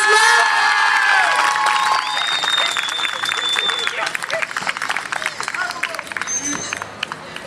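Crowd applause and cheering at a regional dog show on Réunion, loud clapping mixed with shouts and whistles that gradually thins into scattered claps, while an announcer's voice and children's calls sound over it.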